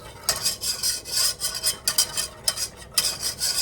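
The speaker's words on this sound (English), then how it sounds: "now we're going to add our flour. So that's 1/4 of a cup of flour, and we're just going to start stirring that around." Flour is stirred into melted butter in a pan with a large whisk, making quick rhythmic scraping strokes close up, each one a bright rasping swish, repeating for a few seconds without voices.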